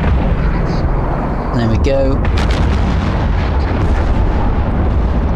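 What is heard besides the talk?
ship weapons firing in video game EVE Online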